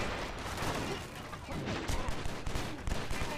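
Dense, continuous shotgun blasts and gunfire in the action video game John Woo's Stranglehold, loud and chaotic with many overlapping shots.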